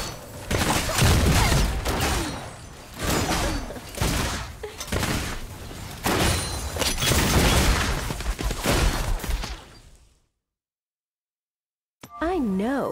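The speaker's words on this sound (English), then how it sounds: "Guns blazing." Rapid bursts of gunfire from Miss Fortune in League of Legends ring out loudly and almost continuously over game effects and a character voice, then cut to silence before a short voice line returns.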